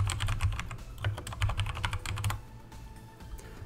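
Rapid clatter of computer keyboard keys as a chat command is typed into Fortnite, close and steady for about two seconds, then fading to quieter room noise.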